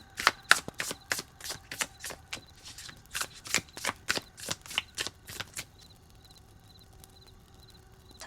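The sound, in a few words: shuffling and drawing tarot cards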